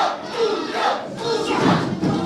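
A crowd at a live local pro wrestling event chants and roars continuously, a dense sustained wall of voices filling the arena.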